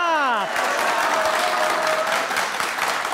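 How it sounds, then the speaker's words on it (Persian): A game show studio audience bursts into dense, sustained applause that fills the room, briefly overlapping a falling musical sting at the start and continuing steadily throughout. "دوستا تشویق کردن، تشویق کردن، تشویق کردن"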